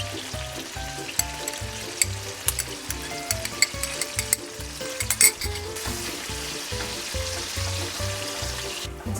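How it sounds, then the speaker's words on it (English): Prawns and garlic fry in butter and oil in a pan, a continuous close sizzle with occasional sharp spits and crackles and a low rhythmic hum beneath. "So to this pan, I am adding prawns"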